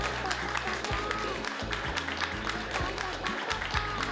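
Crowd applause at a stage show, continuous clapping blended with a heavy rhythmic low-pitched music track and some voice underneath.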